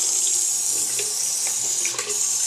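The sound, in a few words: water running from a tap into a sink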